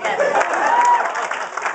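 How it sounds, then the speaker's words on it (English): Comedy club audience applauding a stand-up comic, a short burst of clapping under the performer's continuing voice. "Thank you for your applause."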